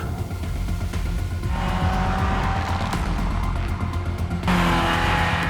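A Ferrari sports car races around a track with a loud, sustained engine roar and faint tyre squeal, the note rising and shifting as it accelerates, with no talk.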